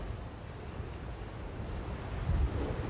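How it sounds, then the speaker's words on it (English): Sea waves surge and crash over a coastal wall near a Coast Guard station, a continuous rushing roar with wind buffeting the microphone, swelling louder toward the end. "I don't know if you've seen that wave then come up over the wall further down and again."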